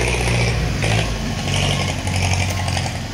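A small loader works soil on a land-leveling job alongside a Ford tractor, its mid-pitched engine droning steadily and loud with rising and falling load as it scoops and pushes dirt, no talk.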